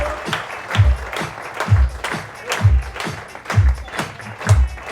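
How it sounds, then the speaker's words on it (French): Audience at an open-mic magic show claps for a performer in a regular rhythmic beat, loud thumping claps recurring about once per second. "vous pouvez faire du bruit pour Scooby s'il vous plaît"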